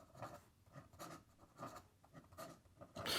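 A Magna Carta Mag 650 fountain pen with a 14k flex gold nib scratches quickly across paper in rapid, rhythmic strokes, close and crisp, with no talking.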